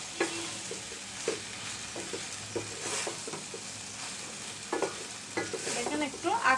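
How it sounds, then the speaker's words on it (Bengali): Chicken puree mixture is stirred in a frying pan with a soft sizzle underneath and repeated light scrapes and taps of the spoon, quiet and close. "অনবরত নেড়ে ছেড়ে দিতে হবে কারণ নিচে জন্য লেগে না যায়"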